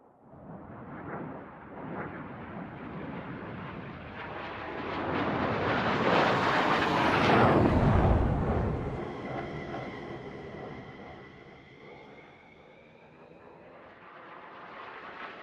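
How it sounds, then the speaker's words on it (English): A military jet in the ARMA 3 game roars overhead, building from a distant whine to a loud pass and then fading away, with no talk. "You can hear the jet."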